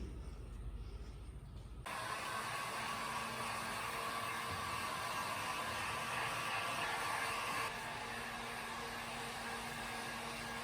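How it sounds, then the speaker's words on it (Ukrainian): A heat gun switches on and blows with a steady, loud whooshing roar that holds evenly for several seconds. "Зроблю це за допомогою будівельного фену."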